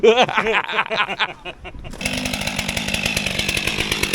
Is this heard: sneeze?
no